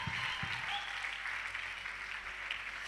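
Steady applause from a church congregation before prayer fills the whole stretch, a dense wash of clapping with a couple of sharper low thumps near the start.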